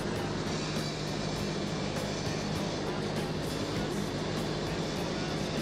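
A Cessna 152 airplane in flight, its engine a steady, continuous droning hum that holds even throughout.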